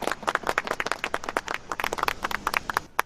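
Applause from a small group at a construction-site safety training meeting, a short burst of brisk, moderately loud clapping.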